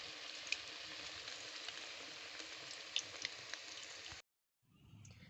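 Potato spring roll chips frying in hot oil give a steady, close bubbling sizzle with a few sharp pops, which cuts off abruptly near the end before a fainter low rumble.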